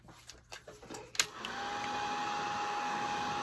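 A few handling clicks and knocks come first. Then a heat gun starts up, blowing a steady loud whoosh of hot air to dry paint on an old vegetable crate.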